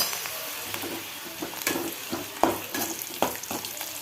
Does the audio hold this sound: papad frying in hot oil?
yes